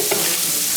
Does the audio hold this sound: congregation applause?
no